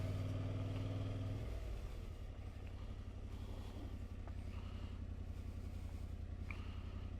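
A Yamaha Ténéré 700 motorcycle engine works to climb a hill on a green lane, a low droning hum that shifts pitch early on, under steady wind buffeting with no voices.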